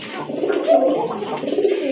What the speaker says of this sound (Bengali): এই যে দেখেন কত সুন্দর ডাকে কবুতরগুলো